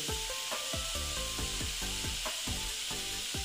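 Momos fry in a pan with salt, a dense continuous sizzle with rhythmic scraping as they are stirred and turned, loud and close throughout without any speech.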